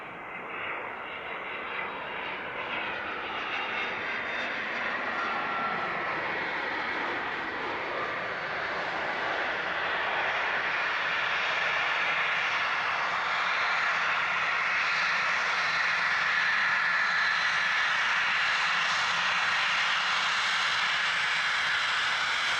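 A general aviation airplane lands on runway 26 left at KSUS airport, its engine a steady broad roar that grows gradually louder across the clip, heard alone without voices.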